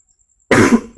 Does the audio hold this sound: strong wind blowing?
no